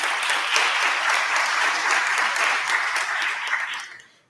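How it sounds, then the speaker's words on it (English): Steady applause from an audience at a live conference event honoring partner organizations, moderately loud and continuous before dying away quickly at the end. "So, applause for them also."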